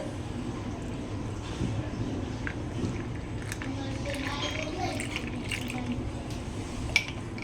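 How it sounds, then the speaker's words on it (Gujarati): Cold water is poured into a glass holding two spoonfuls of fennel-seed premix powder, a soft steady fill with a few drips and clinks, while a voice talks over it. "ઉપરથી એકદમ સરસ ઠંડુ ઠંડુ પાણી લઈ લેવાનું છે"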